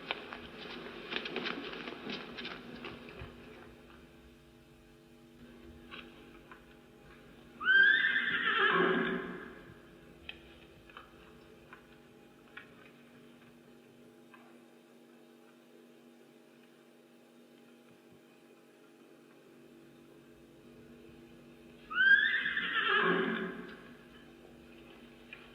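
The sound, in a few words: restless horses neighing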